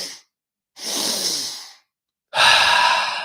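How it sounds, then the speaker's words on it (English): Deep breathing during a breathwork exercise: a short exhale trailing off, then a long drawn inhale and a strong, forceful exhale, each breath close and loud with silent pauses between. "Let's take 3 more breaths."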